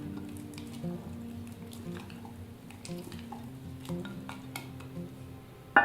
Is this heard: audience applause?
no